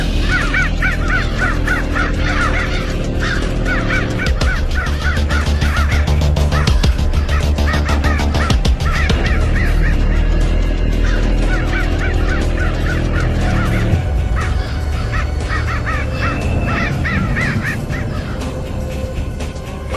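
Crows caw over and over in dense, repeated bursts with other fowl-like honking mixed in, loud and close across a continuous noisy background.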